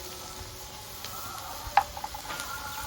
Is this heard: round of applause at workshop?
no